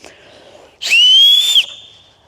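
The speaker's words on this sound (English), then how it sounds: "I know how to whistle with an acorn cap." A piercing whistle blown through an acorn cap in a frozen forest, one loud shrill rising tone lasting under a second, preceded and followed by a fainter whistle tone.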